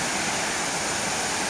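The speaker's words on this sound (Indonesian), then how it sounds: "sekarang kita sudah sampai di air terjun Irenggolo ya" Irenggolo waterfall in Kediri roaring as a steady, dense rush of falling water, loud and continuous with no voices over it.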